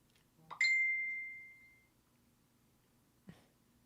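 A single bright notification ding from a phone receiving a text message, sharp onset with a long ringing decay, heard alone in a quiet room, followed by a short faint knock.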